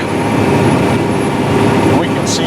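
A 620 hp John Deere 9620R tractor seeds a hard, straw-covered field at speed, its engine a loud, constant heavy drone heard up close throughout.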